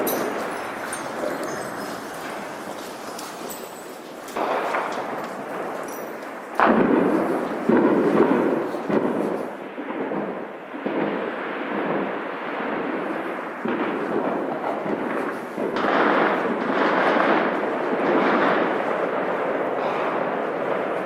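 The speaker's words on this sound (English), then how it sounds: "the sound of the Assad regime's airstrikes in the background" Airstrikes over Homs, Syria: heavy booming blasts and rolling rumbles, some distant and some closer, sounding repeatedly across a dense, continuous background of explosive noise with no talk.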